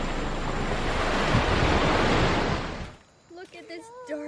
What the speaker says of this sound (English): Waves are much calmer than in Geneva.